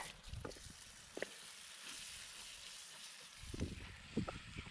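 Steady sizzling and crackling of food frying in a pan, fairly quiet, with a few soft clatters of stirring over it.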